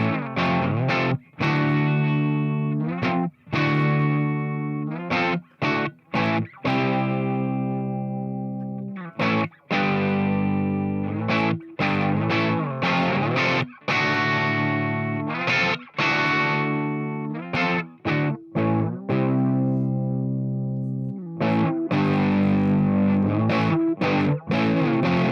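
An electric guitar runs straight through a distortion pedal, direct input, chugging out thick, heavily overdriven chords and riffs in steady bursts with short choppy breaks, loud and alone for about twenty-five seconds.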